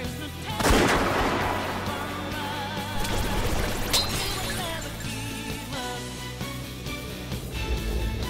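Gunfire from Joker in a Persona 5 Royal cutscene: a loud shot bursts out near the start, then dense game music and effects carry on steadily underneath.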